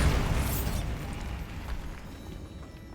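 A Bombarda blasting spell goes off in Hogwarts Legacy, a loud broadband burst with a deep rumbling body that slowly decays over about three seconds, with no talking over it.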